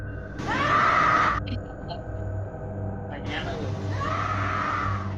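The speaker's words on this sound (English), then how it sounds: "You can hear a woman scream." A woman screams late at night near a nightclub at closing time: two long, wailing cries separated by a pause, heard over a steady low ambient hum.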